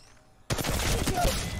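An EVA-8 shotgun in Apex Legends Mobile opens up abruptly after a quiet moment, loud rapid blasts running together into a dense, sustained burst of fire.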